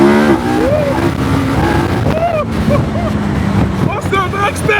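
A KTM 1390 Super Adventure S Evo motorcycle engine revs and accelerates up through the gears with rising and falling pitch, loud and close, while people talk excitedly over it.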